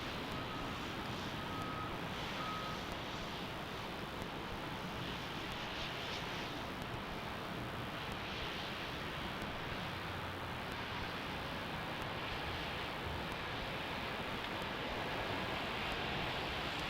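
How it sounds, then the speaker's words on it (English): An American Airlines jet arriving at Salt Lake City from Dallas–Fort Worth gives a faint, distant, steady engine hiss and rumble. The sound continues at low level for the whole stretch with no voices. "Our next arrival is American 1804 from DFW."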